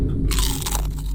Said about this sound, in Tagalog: Bite test pala, bite test.